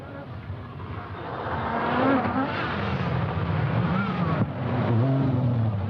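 A Lancia rally car tests tyres on forest roads in Scotland, its engine snarling and revving hard as it powers past, loud and rising and falling, with the roar continuing throughout.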